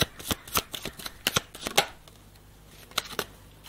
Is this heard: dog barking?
no